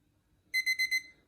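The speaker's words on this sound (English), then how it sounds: "So that's our timer up." Kitchen timer alarm going off while cookies bake, four quick high electronic beeps in an even burst, clear and close in a quiet room.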